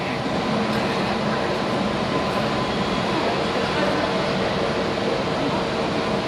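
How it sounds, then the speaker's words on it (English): EasyJet airliner taxiing at Hamburg Airport gives off a steady, broad jet-engine rumble and hiss, constant and moderately distant with no clear change in level. "Right, EasyJet finally moving."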